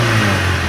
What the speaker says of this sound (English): Now let's rev it